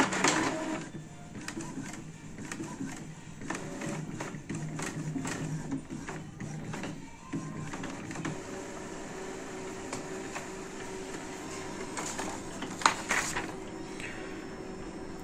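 An Epson XP4105 inkjet printer prints a nozzle test page, with steady mechanical whirring and rhythmic clicking passes of the print head, close and moderately loud, with a brief sharp clack near the end.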